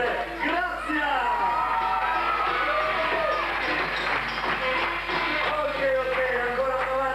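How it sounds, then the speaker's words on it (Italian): At a live children's musical comedy show, a crowd of children shouts and cheers together, a loud, continuous tangle of high overlapping voices. "Bambini, mi raccomando, un urlo per Grazia"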